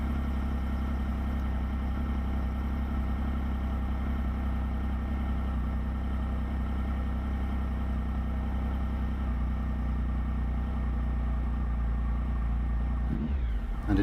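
A Triumph Speed Triple triple-cylinder engine idles steadily during throttle body balancing, a smooth close mechanical hum holding an even pitch before a brief blip of throttle at the end.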